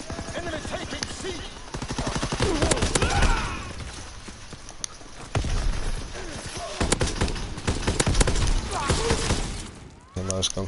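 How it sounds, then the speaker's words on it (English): Gunfire in a Call of Duty WW2 multiplayer match, including a sniper shot amid other weapon fire: sharp repeated bangs and rapid bursts scattered throughout, with a voice talking over parts of it. "That was a sniper shot."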